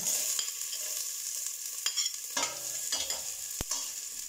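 Garlic frying in oil in a pan for a beef and sotanghon noodle soup, with a steady close sizzle and a few sharp scraping stirs of a utensil against the pan.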